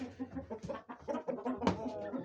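A hen clucks near her eggs in a coop, a run of short, soft, close clucks and murmured calls in an irregular rhythm, with one sharper squawk partway through.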